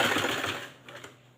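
A sewing machine stitches a blouse hook strip in a fast, continuous whirring run up close, then slows and fades out partway through.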